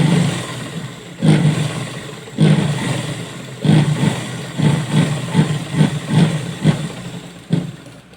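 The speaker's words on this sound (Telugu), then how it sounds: "సో ఇట్లా మిషన్తో కూడా కుట్టు వేసుకోవచ్చు" A sewing machine stitching cloth along a blouse's cups and neckline, its motor whirring close and loud in short bursts that start and stop in a quickening, uneven rhythm.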